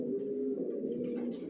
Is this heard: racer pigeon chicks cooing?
yes